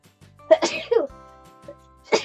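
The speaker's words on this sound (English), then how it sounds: "Well, I gotta sneeze." A single person sneezes once, close to the mic, with a sharp burst followed by a brief breathy exhale and a second short burst of breath near the end.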